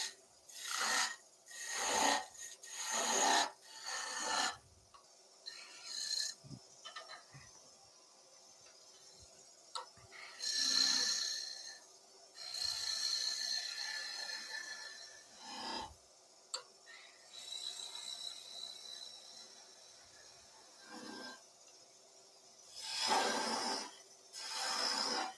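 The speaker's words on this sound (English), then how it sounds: "and then start sanding" Short bursts of rasping, scraping strokes from hand-sanding a small wooden figure come in irregular clusters with quiet gaps between them, close by and fairly soft.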